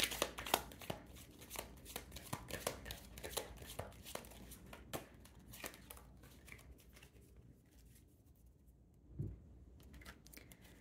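Oracle and tarot cards are shuffled up close in quick, crisp riffles and flicks that come in bursts and thin out toward the end, with one soft thump and no talking.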